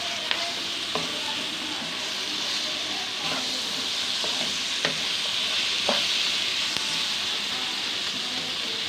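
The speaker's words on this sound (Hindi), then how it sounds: "अब इसमें हम ये टमाटर डालेंगे। ये 3 अदर टमाटर हमने काटे थे वो डाल दिए।" Chopped tomatoes fry in a pan of oil for a chicken and bitter gourd curry, a steady loud sizzle with scattered clinks and scrapes of stirring, close up, no talk.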